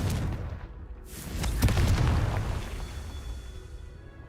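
A fiery blasting-spell explosion from a video game detonates as one deep boom near the middle, a broad low rumble that swells and slowly fades against steady game ambience.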